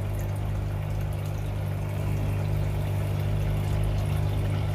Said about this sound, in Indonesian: Ya, airnya sudah mengalir.